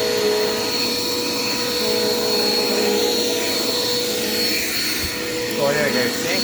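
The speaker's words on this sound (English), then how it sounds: "thankfully I have this vacuum cleaner" A Dirt Devil Quick Power vacuum cleaner runs continuously with a steady, loud whine and a hissing airflow. A voice speaks over the motor.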